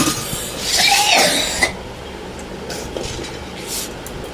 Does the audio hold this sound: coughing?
yes